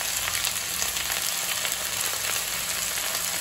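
Drumstick leaves sautéing with small shallots and a pinch of turmeric in a pan, a dense, loud, continuous sizzle with faint stirring ticks, no voices.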